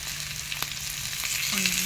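Sliced onions go into a pan of potatoes already frying in oil for a Bengali home-style dish, giving a steady, close sizzle that swells a little as they land, with a light stir or scrape partway through.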